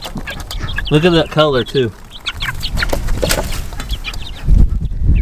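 Young game chicks clucking and peeping in a backyard flock, soft scattered chirps heard close under a voice and a second voice talking.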